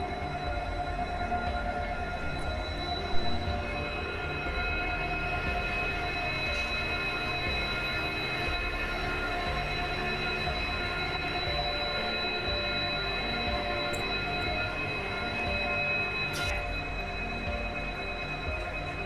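A train at platform 6 of Santragachi station gives a long, continuous rumble with steady tonal whine and faint squeals, mid-distance and unbroken, with no talk over it.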